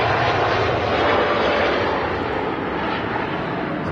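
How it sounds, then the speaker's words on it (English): A Boeing 787 Dreamliner rolls and lifts off the runway at Manchester Airport, a loud, steady, broadband jet engine roar held throughout. "And the Timmy Dreamliner rotating to Montego Bay"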